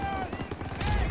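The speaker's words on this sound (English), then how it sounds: "Everyone, open fire!" Rapid gunfire in the WWII shooter Call of Duty WWII, dense overlapping shots from several weapons in quick bursts, with a voice shouting over the battle din.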